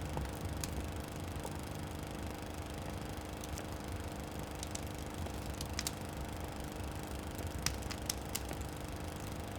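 A generator running at a steady drone with a constant hum and faint clicking, held at one level for the whole stretch and heard alone.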